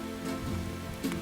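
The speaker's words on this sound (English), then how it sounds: "Still hiking and it's raining." Light, cold rain falls on a forest trail on Standing Indian Mountain in the North Carolina Appalachians, a soft, steady patter with no voices.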